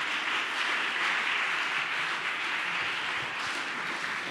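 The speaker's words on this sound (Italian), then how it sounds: "un applauso anche a lui" Applause from an audience at an Italian literary award ceremony in the Turin hills, a dense, even wash of clapping that holds steady throughout without voices.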